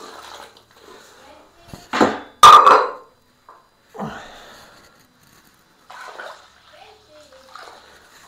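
Water poured from a vessel into a brewing pot while making traditional Finnish sahti: short splashing pours in bursts with clattering of metal pots, and a voice speaks between them.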